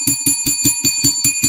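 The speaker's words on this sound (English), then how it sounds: "Let's ring the bell for rehearsals being at 7 p.m." A bright bell rings in quick repeated strikes, about eight evenly spaced dings over a second and a half, loud and close with a sustained metallic ring between hits.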